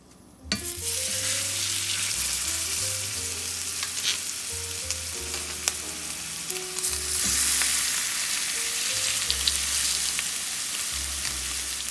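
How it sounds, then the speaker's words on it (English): Steaks fry slowly in oil with thyme over medium heat, giving a steady close sizzle and crackle that lasts throughout, with occasional sharper pops and a background hum and no speech. "I leave the temperature set to medium, and I let these steaks cook very slow."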